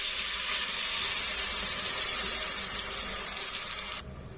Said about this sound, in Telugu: చింతపండు గుజ్జు పోసుకోవాలండి.